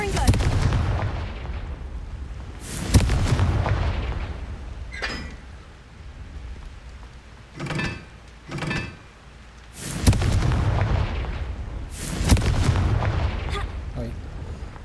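Confringo blasting spells in Hogwarts Legacy go off as several heavy booming explosions with sharp attacks and rumbling tails, spaced a few seconds apart, with quieter bursts in between.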